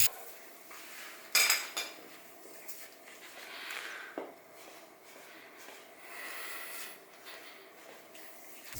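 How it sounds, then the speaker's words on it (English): A socket tightens parts on a KX65 fork during a stiffer spring install, giving light metallic clicks and scrapes, one sharper clank near the start, close and quiet, no one speaking. "take a socket and tighten it down a little bit"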